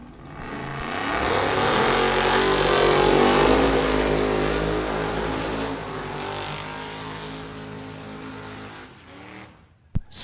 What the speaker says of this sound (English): Get ready for a burnout here,